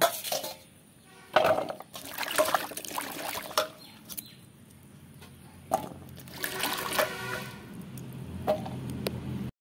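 Taro stolons are rinsed by hand in water, with irregular splashing and dribbling bursts, some louder sloshes between quieter trickling gaps, close by and unaccompanied by talk.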